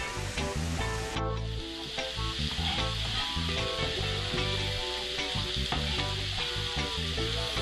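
Sliced mushrooms fry in a hot pan with a steady, dense sizzle that stays loud and close throughout, with occasional stirring clatter and no voices.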